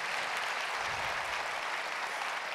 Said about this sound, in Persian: حتما تشویقشون بفرمایید.